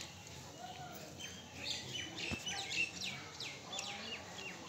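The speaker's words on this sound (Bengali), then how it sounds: "পাখি ডাকছে," Small birds chirp and tweet in scattered short calls, moderately distant, over a faint steady background hush on a rooftop at dusk; no talking.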